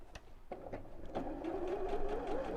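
A domestic sewing machine stitching down a zip, its motor whirring steadily after a few short starts, rising into a continuous close-up drone with no one speaking.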